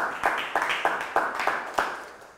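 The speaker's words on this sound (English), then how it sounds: "All right, now you can clap," A seminar audience claps in a loose, slow rhythm, about seven distinct claps spaced roughly a third of a second apart, moderately close and fairly thin, as from a small group.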